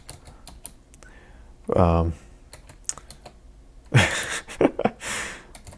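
Bursts of close computer keyboard typing, quick clustered keystrokes with pauses, while playing the roguelike game Dungeon Crawl Stone Soup; a sighing exhale and brief vocal sounds break in between the typing.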